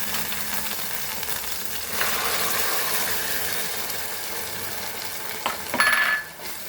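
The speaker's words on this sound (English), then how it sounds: "And fry the masala nicely." Tomato puree and masala fry in a pan for a Goan tarle sukhe green masala dish, giving a steady, close sizzle throughout with a brief stirring scrape near the end.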